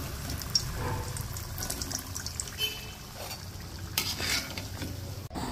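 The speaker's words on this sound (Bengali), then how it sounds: "এভাবে সবগুলো সমোসা ভেজে নেব।" Beef samosas deep frying in oil: a steady, soft bubbling sizzle with some stirring and trickling sounds, close and fairly quiet, ending in a brief clatter.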